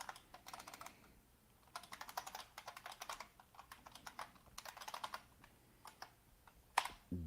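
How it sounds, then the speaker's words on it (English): A password is typed on an Asus laptop keyboard during a Fedora installation. Bursts of soft, close key clicks come in quick irregular runs with short pauses between them, with no talking. "And now I'll type in my password."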